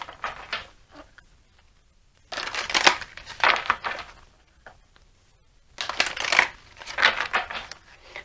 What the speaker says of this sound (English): I'm going to take a card from, let's see, the Power of Love, activation cards.